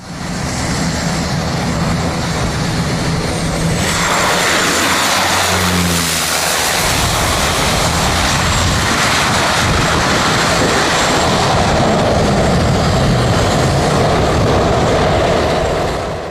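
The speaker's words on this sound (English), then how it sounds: "This DHL Cessna 208 flying dangerously low while approaching St. Barthélemy." Loud, steady engine roar of a Cessna 208 propeller plane flying low on approach to St. Barthélemy airport, continuous throughout with a brief rumbling swell midway, no talking.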